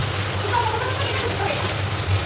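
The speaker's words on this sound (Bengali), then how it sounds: "দেখেন বাইরে কি রকম বৃষ্টি হচ্ছে" Rain falls outside in a steady, even hiss of drops, continuous throughout with a low background hum beneath it.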